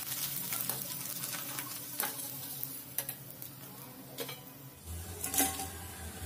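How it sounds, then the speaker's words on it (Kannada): Poha papad (happala) frying in hot oil, a steady broadband sizzle with scattered crackles and pops and a louder burst of bubbling near the end, fairly faint with no talking. "ಎಣ್ಣೆ ಚೆನ್ನಾಗಿ ಬಿಸಿ ಆದ ನಂತರ ಈ ರೀತಿ ಹಾಕಿ ಫ್ರೈ ಮಾಡ್ಕೊಳ್ಳೋಣ"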